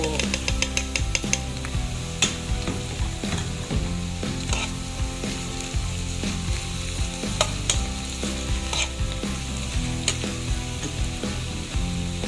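Bottle gourd stir-fried in a pan with garlic and onion, a continuous sizzle layered with rapid rattling and clattering as a utensil scrapes and stirs, loud and close throughout.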